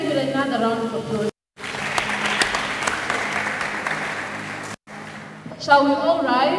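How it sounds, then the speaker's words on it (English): Sustained applause from a church congregation after a performance, a dense wash of clapping for several seconds, framed by brief bits of talk before and after. "Let's give it another round of applause."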